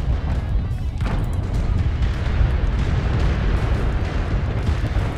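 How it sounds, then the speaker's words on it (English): Missile explosions in the mech combat game MechWarrior Online, a dense continuous barrage of loud booming blasts and rumbling impacts that overlap without a pause. "These missiles gotta stop."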